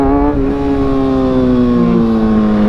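Motorcycle engine revving high for a wheelie, a loud sustained drone with strong harmonics that holds a steady pitch, then dips briefly before climbing again; no talking.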